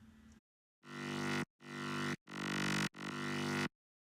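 Distorted white-noise synth bass played through a chorus unit in Reason 8 sounds as four separate sustained notes with swelling attacks, each cut off by short silences, after a brief lead-in sound.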